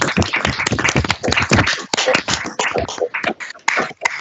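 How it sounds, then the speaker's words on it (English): Participants in a virtual user group meeting, unmuted on a video call, clap and applaud together in a dense, uneven patter of overlapping claps lasting throughout, fairly loud and close. "let's all come off mute. Give the guys a round of applause"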